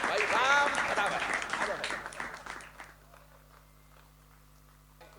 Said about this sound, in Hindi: एक बार दोनों हाथ उठा करके जोरदार तालियों के साथ में भाई राम भदावर को बुलाइएगा।